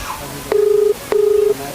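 Two long, even ringback tones sound over a phone line on an unanswered call to a legislator, evenly spaced and fairly loud, with a faint background between them and no talking.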